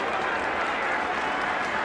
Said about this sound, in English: And the Manly crowd appreciate that. They're giving applause to Matt Fuller.